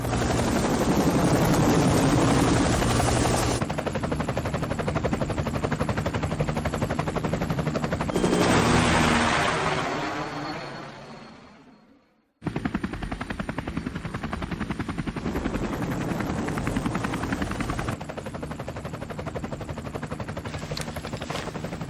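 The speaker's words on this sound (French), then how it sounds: "Sandek, vous avez carrément un hélicoptère?" Loud, steady helicopter rotor chop with a constant whine. It fades and cuts out briefly midway, then returns just as strongly.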